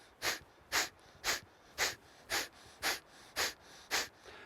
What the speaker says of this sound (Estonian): ma hingan nina kaudu välja